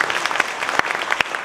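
Applause from the congregation at a healing gospel gathering, with dense clapping throughout and a few sharper claps standing out, moderately loud and close.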